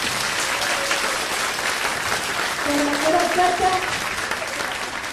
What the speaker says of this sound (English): Can I get a round of applause for all those wonderful people, please?